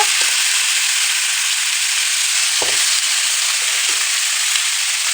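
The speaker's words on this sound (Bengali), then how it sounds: "অনেক কয়টা পিস হয়েছে সেই জন্য কয়েকটা ভাজা করতেছি" Pangas fish pieces frying in a pan, a steady loud sizzle and hiss of hot oil continuing throughout with a couple of brief soft knocks.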